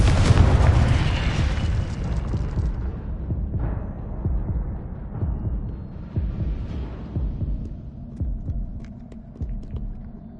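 A Confringo spell explosion in Hogwarts Legacy lands as a deep booming blast, then a long rumbling, throbbing low tail with scattered softer thuds that fade over several seconds.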